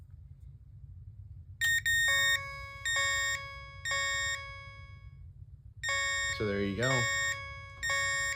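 Electronic alarm chimes from an Edwards Fireshield conventional fire alarm panel during a drill ring out in repeated multi-tone bursts, clear and fairly close, with a brief spoken remark partway through and a low hum beneath.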